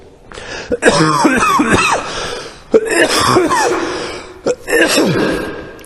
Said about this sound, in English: I've got no choice but to cough because it's uncontrollable.